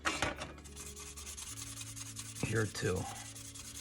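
Sandpaper works down a sharp panel line on a scale model car body. Faint, close rubbing strokes come in short bursts, and a voice speaks briefly over them.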